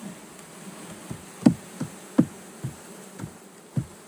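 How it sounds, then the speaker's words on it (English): A 3-pound package of honeybees is shaken into a hive. A steady buzzing hum runs throughout, broken by several dull knocks as the package is tapped and dumped. "Bunch of bees down in there."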